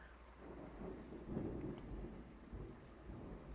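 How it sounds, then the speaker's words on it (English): Rain falls outside with low rumbles of thunder, heard faintly from indoors as a soft, steady patter with a deeper roll swelling near the middle. "Oh my God, this rain outside sounds so soothing"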